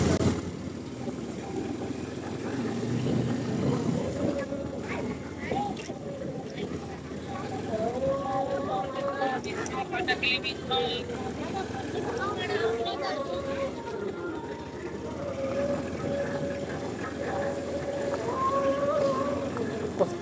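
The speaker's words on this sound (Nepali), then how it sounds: "ब्याकग्राउन्ड तपाईँहरूले त्यो आरती बोलेको पनि सुन्नुहुन्छ" Aarti chanting rises at Dupcheswor Mahadev temple in Nuwakot as voices hold steady, droning tones through the whole stretch. The chant stays moderately distant over a continuous low rumble of background noise.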